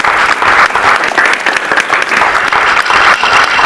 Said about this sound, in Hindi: ये लोग मेरे लिए नहीं ताली बजा रहे हैं